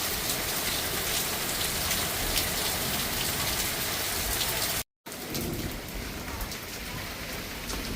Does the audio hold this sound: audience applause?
no